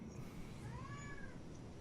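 A person imitating a cat gives a single drawn-out meow rising and falling, fairly faint against a steady background hiss.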